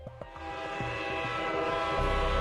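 Freight train horn on the China–Europe international railway out of Chongqing, a sustained blaring horn tone over the rumble of rolling wagons, close and steady throughout.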